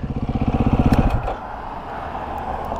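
A motorcycle pulls up with a close, throbbing idle that pulses rhythmically, then shuts off after about a second, leaving faint background noise.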